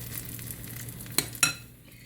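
A salmon patty fries in a pan with a steady low sizzle, broken by two sharp clicks of a utensil against the pan near the end.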